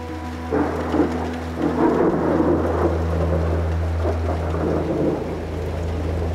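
Steady heavy rain with rolling thunder rumbling throughout, low booms swelling and fading over a constant wash of downpour.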